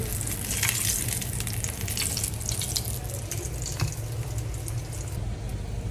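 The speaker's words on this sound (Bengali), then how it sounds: "মাছ ভাজা শেষ" Fish frying in a pan for a Bangladeshi home meal, giving a steady, dense sizzle and crackle that runs close and constant throughout, with faint clinks of utensils and no talking.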